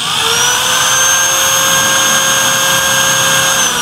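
A power grinder running on a portable power station gives a loud, steady high-pitched whine with a constant motor drone throughout, heard close up with no talking.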